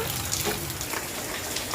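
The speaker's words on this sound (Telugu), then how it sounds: "ఇంకా వాన అయితే ఆగలేదు" Steady rain falling outdoors on a farm near a papaya tree, a faint, even patter and hiss with no talk over it.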